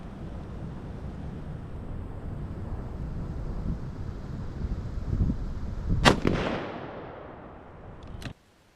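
A .308 Winchester rifle fires a single sharp, loud report on an outdoor range, its echo rolling off quickly, with steady wind noise before it and a second faint crack near the end.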